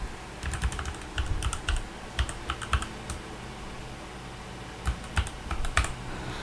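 Short bursts of close, crisp keystrokes on a laptop or computer keyboard as a password is entered during Google account sign-in, clustered taps separated by brief pauses, with no voices.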